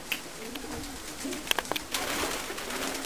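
Racing pigeons in a South Australian loft give soft, low cooing calls, several coos rising briefly above a quiet airy background.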